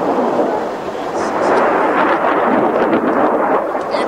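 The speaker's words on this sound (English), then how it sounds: "Each launcher fired 12 rockets." A distant volley of MLRS rocket launches rumbles outdoors, a sustained deep roar that swells and fades like thunder across the whole stretch, with wind buffeting the microphone.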